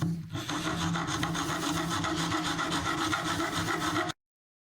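Steady, close rasping of a blade sawing through a copper jack plate, continuous strokes for about four seconds before stopping abruptly.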